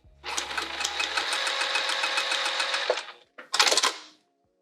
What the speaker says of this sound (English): Now let's go to the machine, and I'm gonna sew down each long edge.